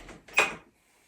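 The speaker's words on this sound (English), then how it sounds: "make sure you hear the lock as well" The side door lock on a profiling bed gives a single short, sharp click with a faint scrape of the latch just before it, close by and then quiet.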